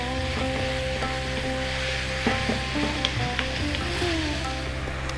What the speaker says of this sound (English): we're going to go for 7 or 8 minutes stirring this and stirring it and stirring it to get it on its way